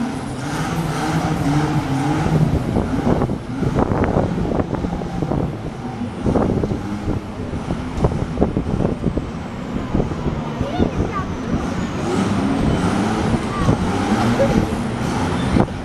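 A 4WD truck engine revs and labors over rough off-road ground at a 4WD show, with clunks and bangs throughout and voices talking over it.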